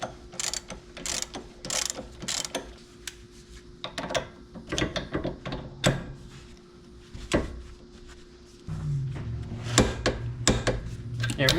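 A ratchet wrench torquing the pitman arm nut on a Jeep XJ during a steering refresh, bursts of quick clicking ratchet strokes and metallic clanks close by, with a low hum entering partway and someone speaking intermittently.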